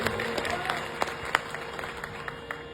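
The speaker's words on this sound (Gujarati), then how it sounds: "જોરદાર તાળીઓ બતાવશે" Scattered, sparse handclaps from an audience at a Barot community gathering crackle quietly beneath a voice.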